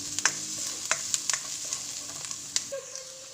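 Garlic and onion browning in a pan for pork pata kare-kare, a steady sizzle broken by repeated scraping clicks of a utensil stirring; no talking.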